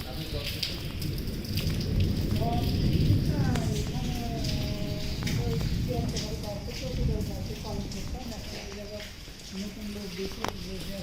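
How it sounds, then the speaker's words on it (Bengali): Heavy rain pours down steadily near a balcony, a dense, loud, unbroken roar of water with no gaps, while people talk faintly beneath the downpour. "এখানে মুষলধারে বৃষ্টি হওয়ার কারণে"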